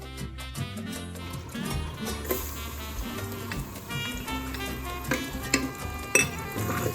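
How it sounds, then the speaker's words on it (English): Garlic frying in warm olive oil in a pan: a soft sizzle with stirring and occasional clinks of a utensil against the pan, fairly quiet, no voices. "Now our olive oil should be warm enough to add in our garlic."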